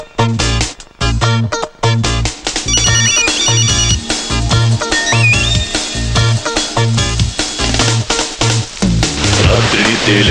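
A mobile phone plays a musical ringtone in a Kannada horror film, a loud repeating melodic tune with a beating rhythm that runs continuously for about ten seconds.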